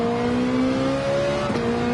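Opponent race cars' engines drone in Gran Turismo 7, a steady, humming engine note from a car alongside. The pitch shifts slightly partway through as the engine speed changes.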